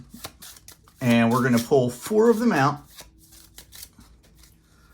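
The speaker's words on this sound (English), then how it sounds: "what we do is we shuffle those up" A stack of fifteen level 1 cards for the Dungeon Delve: Inn of the Black Boar board game is shuffled by hand, giving soft papery riffling before and after someone talks over it.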